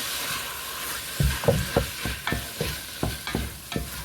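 Peppers and onions frying on medium heat for a one-pot pasta, a continuous sizzle broken by several close scraping stirs of a utensil against the pan, with no voices.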